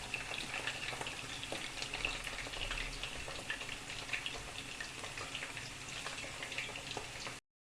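Köfte meatballs frying in a pan give a steady, even sizzle with light crackling throughout, heard alone without talk.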